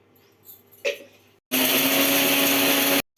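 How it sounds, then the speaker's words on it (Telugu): Mixer grinder blending dried red chillies, chana dal, urad dal, cumin, asafoetida, turmeric and curry leaves into a spice powder: a few faint clinks, then a loud steady whirring grind that runs for about a second and a half before cutting off. "వేసేసుకుని మిక్సీ పట్టుకోవాలి"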